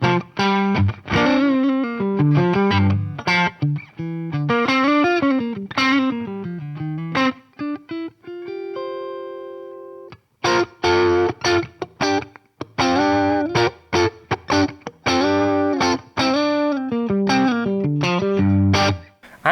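Electric guitar played through a JHS Angry Charlie crunchy overdrive pedal into a Deluxe Reverb amp, picked chords and single-note runs with a brief pause partway, ringing out clearly with no talking.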